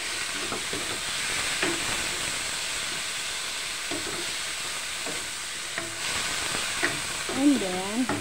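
Chicken sizzles in a pot after fish sauce (patis) is added for a chicken sotanghon soup, a constant hissing fry with occasional stirring knocks and a brief voice near the end.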